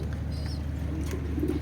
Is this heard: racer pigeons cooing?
yes